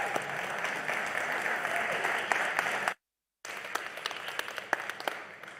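An audience at a virtual launch event claps to welcome a speaker to the stage, steady applause with a few crisp individual claps, broken by a brief dead-silent gap before the clapping resumes.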